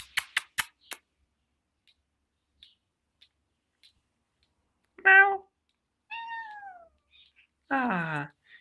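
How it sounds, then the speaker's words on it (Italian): A cat being fed lets out three separate meows, close and clear, after a few sharp clicks and scattered faint taps in an otherwise quiet room. "Ecco che do da mangiare al gatto."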